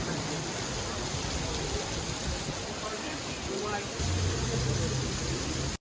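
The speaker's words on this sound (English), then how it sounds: "Once the rain finally stopped" Steady rain pours onto a street in Bogota, a dense even hiss that continues without a break, with a low rumble of passing traffic growing slightly louder toward the end.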